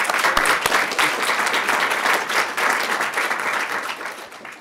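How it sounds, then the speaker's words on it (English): An audience at a lecture claps in sustained, even applause that fills the room for several seconds without pause, heard close and loud with no speech over it. "So if you could all welcome both of them with a round of applause."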